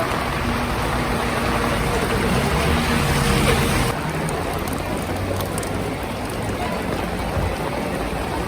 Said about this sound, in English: this is pretty heavy rain and pretty prolonged periods of rain